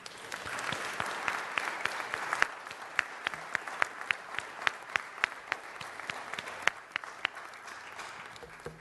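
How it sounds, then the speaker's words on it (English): Audience applause for veterans at a city council recognition ceremony, a sustained wash of many hands clapping at moderate distance, with sharper individual claps standing out and no talk over it. "Let's give them another round of applause."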